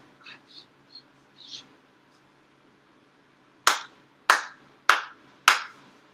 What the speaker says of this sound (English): Shiro Haire 4 sincere claps.